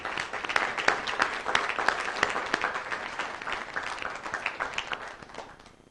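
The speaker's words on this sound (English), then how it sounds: "just one more round of applause for everyone that was recognized today" A city council meeting audience gives another round of applause for honorees recognized that day, a steady patter of moderate clapping from a modest crowd that gradually thins and fades.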